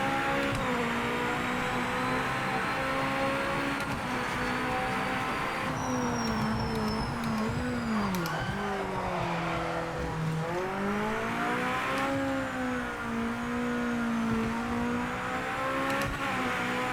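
A hypercar engine in Project Motor Racing revs hard through corners and chicanes, its pitch climbing, dipping and rising again as the car brakes and accelerates, loud and close throughout.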